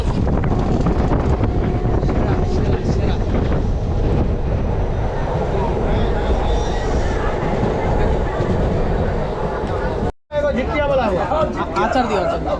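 A passenger train bound for Siliguri rumbles steadily along the rails, with wind buffeting the microphone and passengers chattering nearby throughout; the sound cuts out briefly near the end before resuming.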